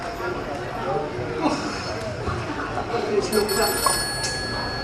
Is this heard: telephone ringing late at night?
yes